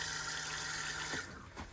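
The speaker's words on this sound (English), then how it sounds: "It's only a case of hitting this little blue button here after it's been used. So you're going to put water around the bowl." A Thetford RV toilet in a 2021 Coachman Acadia Xtra motorhome flushes, rushing water sweeping around the bowl with a steady hiss that cuts off, followed by a brief gurgle and drip at close range.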